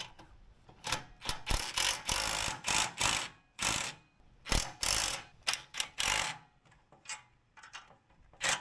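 Hand ratchet tightening bolts on a trailer leaf spring bracket, a series of close, sharp clicking bursts in uneven strokes with brief pauses between them.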